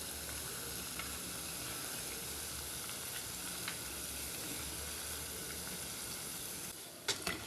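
Carrot chin chin frying in hot oil, a steady even sizzle that runs for several seconds, with a few gentle stirring scrapes near the end. The sound is quiet and close, with no voices.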